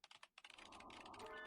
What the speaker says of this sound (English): The typing sound effect is still happening!